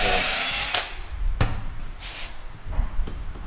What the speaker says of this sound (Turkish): Şimdi üstten deliyoruz arkadaşlar.